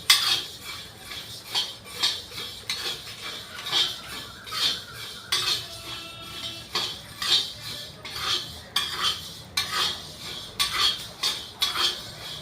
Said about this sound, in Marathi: धने आता वाजवायला तडतड असे वाजू लागले धने